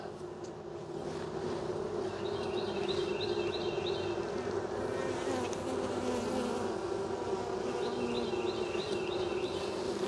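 Honeybees buzz steadily and fairly close during a hive inspection, a continuous droning hum that fills the whole stretch with no talk over it.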